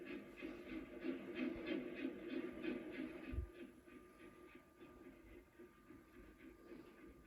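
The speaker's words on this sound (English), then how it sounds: "And there's the train just passing by." Faint low rumble of a train passing in the distance, with a steady hum and soft rhythmic clatter.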